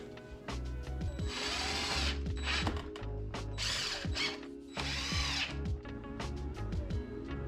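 A drill drives 1.5 inch GRK cabinet screws into reclaimed wooden braces, close and loud, with whining bursts of the motor, ratcheting clutch clicks and short pauses between screws.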